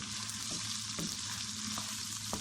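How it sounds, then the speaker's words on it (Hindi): Chicken sizzles and fries in a pan, a continuous crackling hiss with small pops and stirring scrapes, close and steady throughout. "इसको 5-1 मिनट तक फ्राई कर लेंगे"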